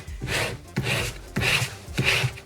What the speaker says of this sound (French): je vais là nettoyer mon tapis à fond